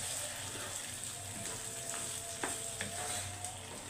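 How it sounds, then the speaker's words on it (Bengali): Rice grains frying in spice masala for pulao make a soft, steady sizzle at close range, broken by a few light scraping stirs and occasional clicks, with no voices. "তো এখন চালটাকে এই মশলার ভিতরেই সুন্দর মতো ভেজে নিতে হবে।"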